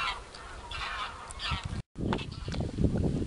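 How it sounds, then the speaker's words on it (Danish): A flock of geese honks repeatedly in a spring field on southern Funen in Denmark, loud, overlapping calls close by, with a brief dropout midway before the honking resumes. "Der er de andre gæs."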